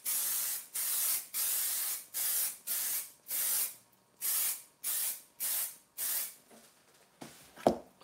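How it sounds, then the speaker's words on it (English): Aerosol fixative is sprayed over a pastel car sketch in about ten short hissing bursts of even length and rhythm, close and fairly loud, ending with a faint clunk. "I'm going just to spray fix everything"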